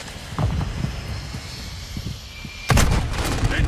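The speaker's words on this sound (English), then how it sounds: "Throwing Semtex!" A Semtex sticky grenade in Call of Duty bursts in a heavy, sudden boom after a few scattered gunshots, loud and close, the blast rumbling on for about a second amid game noise.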